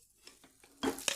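Mashed potatoes are stirred into a spice tempering in a pan, giving soft spoon scrapes and taps followed by a louder, brief burst of sizzling and stirring.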